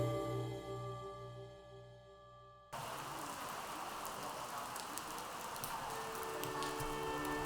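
Rain falls from the open sky well of an ancestral hall in southern China, a steady dense patter on the surfaces below. A tonal hum sits under it for the first few seconds, then the rain continues alone.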